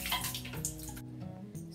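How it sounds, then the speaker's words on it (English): A curly wig is set into water mixed with conditioner, giving a brief close splash and sloshing of water that stops abruptly partway, then a faint second slosh. "Nitaliweka kwenye maji, na haya maji pia nimeyachanganya na conditioner kidogo."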